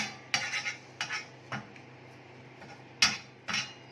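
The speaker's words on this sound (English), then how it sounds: "So let's just toss it around a little bit, but make sure that they don't stick together" Mint parathas being tossed around in a hot pan, several sharp metallic clinks and scrapes of utensil against pan in irregular bursts, separated by quieter gaps.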